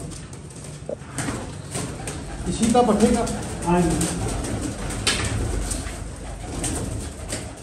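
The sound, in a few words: pigeons cooing in breeding room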